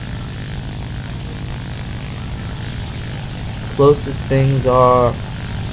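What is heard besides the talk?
propeller plane engine in War Thunder video game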